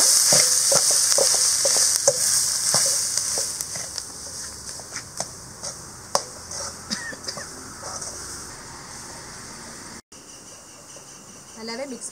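A salted mix of boiled sweet potato is stirred in a pan over the stove, giving a steady sizzle with soft scraping and tapping of the spoon throughout.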